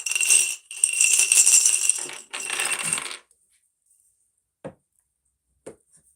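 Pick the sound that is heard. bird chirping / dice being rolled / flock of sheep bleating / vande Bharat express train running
dice being rolled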